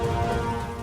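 Rain falls as a dense, steady wash of noise in a Telugu TV drama scene, loud and continuous across the brief moment with no voices over it.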